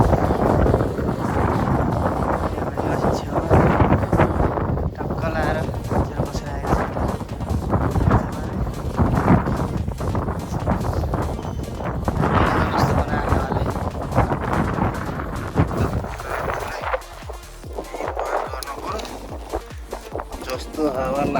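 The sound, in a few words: wind blowing against the microphone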